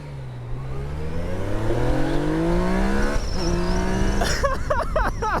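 A 2019 Yamaha Niken three-wheeled motorcycle with the FZ09 engine accelerates hard, its rising engine whine climbing through several gears with shifts, loud and close, ending in a burst of high squeals.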